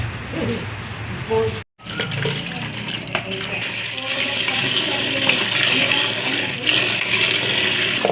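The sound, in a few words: washing banana flower under water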